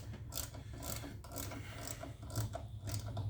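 Ratchet turning screws on the gas door lock actuator of a VW Atlas, driving into plastic: a steady, close mechanical clicking and whirring over about three seconds, with no talk.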